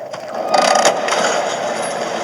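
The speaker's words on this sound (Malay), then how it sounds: "Oh, itu bunyi pintu." A door creaks open in Bendy and the Ink Machine, a grinding mechanical rattle with a louder ratcheting burst partway through, heard without speech.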